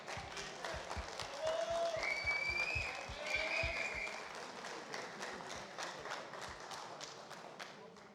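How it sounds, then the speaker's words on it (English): Audience clapping at a live fight event, a steady patter of hands that is moderately quiet and tapers off, with a host's voice and whistles cutting through the crowd noise. "Ferric, an applause."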